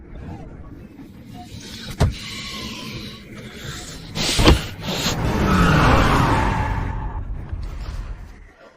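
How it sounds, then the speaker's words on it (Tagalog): A car sweeps in quickly and closes the distance, engine and tyre noise swelling to a loud whooshing peak, with a couple of sharp knocks partway through. "May isa pang kotse na papalapit ng mabilis."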